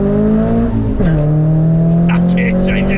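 A Renault Clio 172 hatchback accelerates hard on the road, its loud engine drone rising, dipping sharply at a quick gear change, then pulling steadily again, with a voice exclaiming from inside the cabin.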